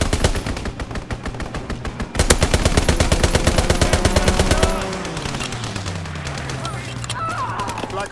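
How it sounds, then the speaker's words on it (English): Rapid machine-gun fire from a strafing run in the World War II shooter Call of Duty: WWII rattles loud and close, a dense burst that cuts off before a lower engine roar follows. "Strafing run inbound."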